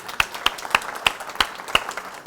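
Audience at a classic car valuation panel in an automotive museum applauding a panelist, a loose round of clapping with a few sharp, evenly spaced claps standing out above the rest.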